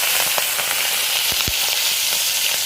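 Prawns frying in a pan, giving a loud, dense sizzle with scattered crackles and a couple of deeper spits, all close and continuous.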